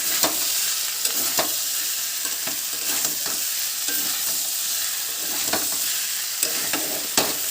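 Pumpkin and soybean curry with turmeric sizzles in a wok while a spatula stirs and scrapes the pan in repeated strokes, close and steady, with no speech.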